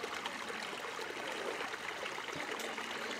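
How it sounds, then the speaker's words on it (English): Water washes steadily along a creek bank of lamproite gravel at Arkansas' Crater of Diamonds State Park, a continuous soft rushing and trickling with no voices, fairly faint and close by. "look at this bank where water is washing in"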